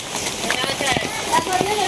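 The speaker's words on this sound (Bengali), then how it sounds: "সকাল থেকেই প্রচুর পরিমাণে বৃষ্টি" Heavy morning rain falls steadily, making a soft continuous hiss with scattered drop patters close by, while a person talks over it throughout.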